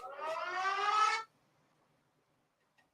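Short alarm siren sound bite played during a live discussion stream, a rising wavering wail lasting just over a second, then cut off into near silence.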